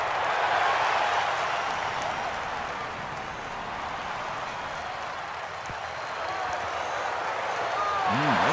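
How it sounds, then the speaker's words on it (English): A video-game golf crowd at TPC Scottsdale gives muted, steady applause that swells and dips under continuous commentary. "and this crowd, let's say, muted in their applause"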